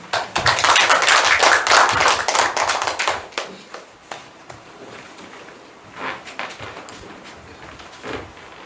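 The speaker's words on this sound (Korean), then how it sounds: "환영의 박수 부탁드립니다" An audience at a forestry forum gives welcoming applause, a loud burst of many hands clapping that fades after about three seconds into a few scattered claps and room noise.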